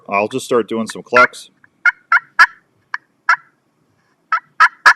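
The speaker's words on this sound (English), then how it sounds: "I'll just start doing some clucks." Sharp, short turkey clucks from a call, single and paired notes spaced irregularly, following a brief stretch of speech at the start.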